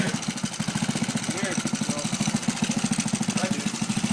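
A small motorized scooter engine chugs loudly nearby with a fast, even pulsing rhythm that holds steady throughout.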